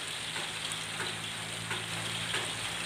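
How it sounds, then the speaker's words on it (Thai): Steady hiss of rain falling, a dense, even patter with a faint low hum beneath, no voices. "วันนี้ฝนตกนะครับอาจจะมีเสียงฝนหน่อยนะครับเพื่อน"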